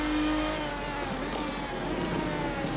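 A V12 car engine in the racing game Assetto Corsa revs hard and steadily for the whole stretch, a loud continuous high-pitched mechanical drone with no talking over it.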